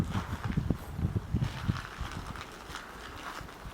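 A handful of close footsteps tap in a quick, even rhythm, then give way to soft background hiss.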